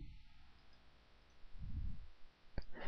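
A single sharp computer mouse click on a Start button, preceded by quiet room tone and a low rumble.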